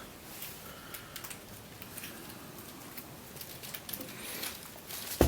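Light hail patters steadily outdoors, a faint, even ticking and pattering that continues alone throughout with no talk.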